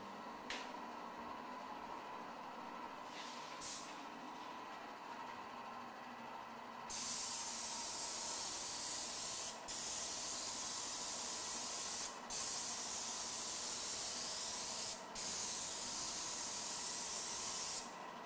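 A spray machine spraying plaster, a loud continuous hissing spray that starts partway through and runs steadily with a few brief pauses, preceded by a lower mechanical hum.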